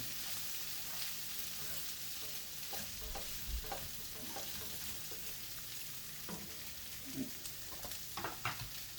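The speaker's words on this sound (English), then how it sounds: "Now we're going to go ahead and mix this together with the barbecue sauce" A spoon works through pulled pork tossed with barbecue sauce, giving a steady wet, sticky stirring sound with soft squelches and occasional scrapes, close and alone.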